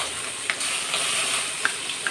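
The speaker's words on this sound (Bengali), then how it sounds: "এই আমি কিছুটা চিংড়ি মাছ ভেজে নেব।" Prawns frying in oil in a pan, a steady close hiss of sizzling with a few brief pops and crackles breaking through.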